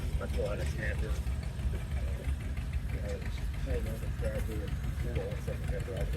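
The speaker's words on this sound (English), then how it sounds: "if you couldn't hear me over Brian's tractor" An Allis Chalmers tractor engine runs at a steady idle-like chug at an outdoor tractor pulling event, moderately loud and continuous, with crowd voices and chatter mixed in throughout.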